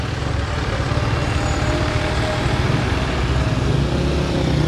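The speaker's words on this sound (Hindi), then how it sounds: "ये ट्रैफिक अभी बहुत ज़्यादा हो गई है।" Dense traffic on a road in Ugoki on the way to Sialkot makes a constant, close, broadband wash of car, bus and truck engines, loud and unbroken throughout.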